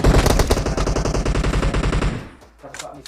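Rapid automatic gunfire in the PUBG Mobile video game: a loud, continuous machine-gun burst of evenly spaced shots for about two seconds, then it cuts off, leaving only faint background sounds.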